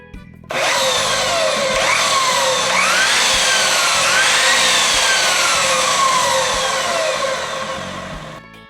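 A miter saw with a freshly changed blade, run on 110-volt power, switches on abruptly and spins at a loud, steady whine for several seconds before slowly winding down, with no voices.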